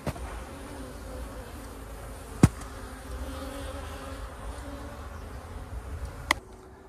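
Honey bees at a hive during a quick early-2023 check on a sunny day hum in a steady, close buzz, broken by two sharp clicks.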